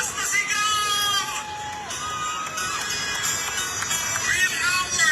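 A large rally crowd in Davao roars and shouts continuously, a dense wall of loud cheering with whoops and cries rising and falling throughout.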